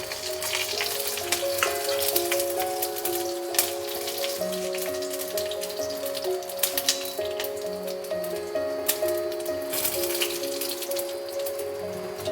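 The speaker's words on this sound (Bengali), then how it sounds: "এই সমস্ত মশলাগুলো আমি তেলে দিয়ে দেবো।" Whole cardamom, cinnamon, cloves, black peppercorns and cumin seeds sizzle in hot oil, a continuous dense crackle with scattered sharper pops throughout.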